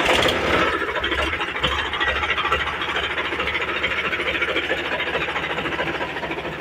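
A used tractor's engine runs steadily after being shifted into neutral and started, a rapid rhythmic mechanical clatter with a low pulsing throb, close and continuous with no talk.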